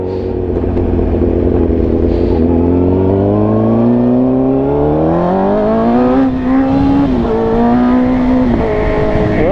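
A 1000cc motorcycle engine revs loud and close under throttle for the whole stretch, its pitch climbing steadily with a few brief dips as it winds up, with no talk over it.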